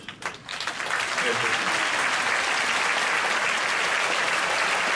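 Church congregation at a Friday night service breaks into steady, dense applause welcoming visiting pastors and elders, a loud continuous clapping from a large crowd after a brief spoken lead-in.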